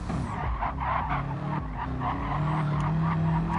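Race cars braking hard at Spa-Francorchamps, with tires skidding and squealing under a loud engine roar as cars close up into a corner.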